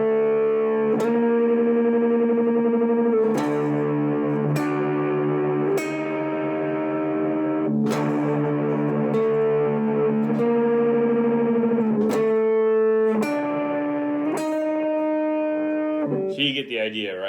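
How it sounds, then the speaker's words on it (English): A distorted electric guitar plays a normal power chord, struck about eight times in sequence, each chord ringing out loud and sustained with heavy distortion before the next hit. "it's just like a normal power chord"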